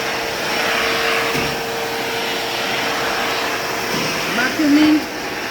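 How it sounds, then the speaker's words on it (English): A vacuum cleaner runs steadily in a garage with a continuous whooshing drone, loud and close, and a brief higher whine near the end. "Vacuuming"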